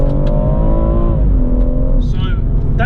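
A BMW M140i Shadow Edition in Sport Plus mode accelerating, its engine note rising steadily with a loud droning roar inside the car, with a brief gear-change dip.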